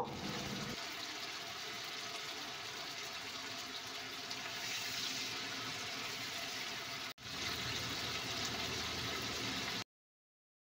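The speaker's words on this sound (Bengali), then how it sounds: "তো এভাবেই একে একে মাছগুলোকে লো ফ্লেমে রেখে আমি ভেজে নেব।" Amudi fish frying one by one in oil over a low flame, giving a soft, continuous hiss and crackle of hot oil with a brief dropout near the end and no voices.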